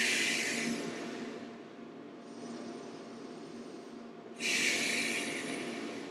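Slow, deep breaths with a long forceful exhale blown out through the mouth, a breathy rush that swells, eases off, then surges again, close and alone.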